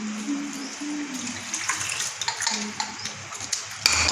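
Water pours and splashes into a cooking pot holding thick potato pieces for a kadhi, a steady running stream with light clinks of the pot and a sharper splash near the end.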